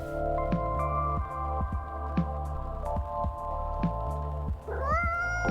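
Cat in the cozy café game Coffee Talk 2, a single drawn-out meow near the end over soft, steady background game music with a regular throbbing beat.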